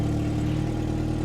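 A Dodge Dart Swinger 340 with 546,000 miles on it runs with a steady, low engine drone, the idle heard close and continuous for a brief moment without any talk.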